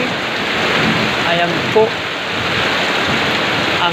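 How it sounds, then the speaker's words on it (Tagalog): Heavy rain pours down in Quezon City in a dense, steady hiss, close and loud, with someone briefly speaking over it. "bumagsak na naman po ang matinding ulan dito po sa aming lugar"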